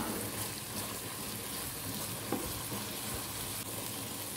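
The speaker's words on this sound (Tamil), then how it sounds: "இந்த மாதிரி கொஞ்சம் மசிஞ்சு வர வரைக்கும் இதை நல்லா வந்து நம்ம வதக்கி விட்டுக்கலாம்." Tomatoes sauté in a pan for a ladies finger thokku, a continuous quiet sizzle with faint stirring scrapes, close by and without speech.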